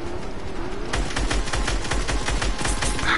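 Rapid automatic gunfire in the video game Fortnite, a dense continuous burst of loud shots close up with no pauses, carrying over a busy game background.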